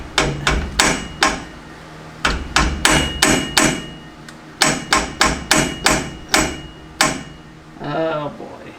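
Hammer blows ring out on the rear axle shaft of a GM 8.5 rear end, a close, loud series of sharp metallic strikes in quick bursts with brief gaps, ending with a short spoken remark.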